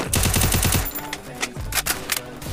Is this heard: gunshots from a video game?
yes